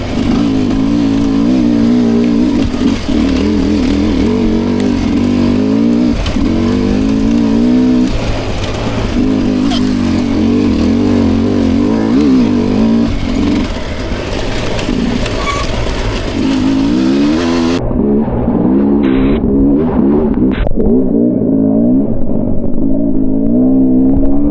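Dirt bike engine revving hard while climbing a hill at a hare scramble race, heard from the rider's position as a loud, continuous, rising and falling engine drone with clutch-controlled surges, wind noise at the end.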